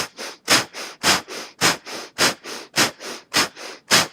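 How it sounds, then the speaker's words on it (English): Kapalabhati yoga breathing, a series of forceful nasal exhales from abdominal pumping, about eight sharp huffs at a steady pace of roughly two per second, each with a softer inhale between, close and alone. "You'll forcefully snap your abdomen back and exhale out the nose."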